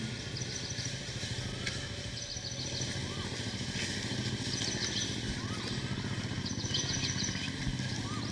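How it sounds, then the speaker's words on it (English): Faint, high bird calls repeat in short chirping clusters every couple of seconds, far off and partly buried under a steady, loud rumble of background noise. "Now the bird I do not see, but I am hearing the sound."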